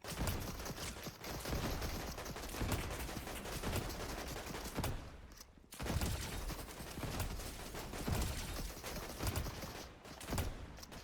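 The Wrecker weapon in the video game Escape the Hood fires in loud, dense repeated bursts of blasts and mechanical clatter, broken by two short gaps before the firing resumes.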